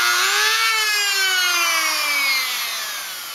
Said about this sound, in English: you're gonna need to use your Dremel to sand those down, along with these standoffs